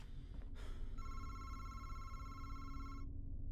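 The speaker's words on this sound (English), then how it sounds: "Oh God, the phone's ringing" Telephone ringing inside the horror video game Madison, a steady electronic bell tone entering abruptly after a short thump and sustaining for about two seconds over a low ambient game drone before cutting off.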